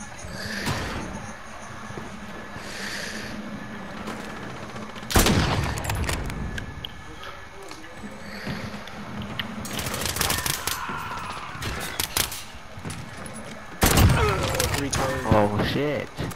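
Call of Duty gunfire in an online match: sharp bursts of automatic shots and single cracks, loud and close at several points, with other shots trailing between them and players talking over the action.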